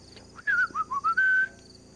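A person whistles a short tune of several clear descending and rising notes ending on a held tone, close and alone over faint background noise.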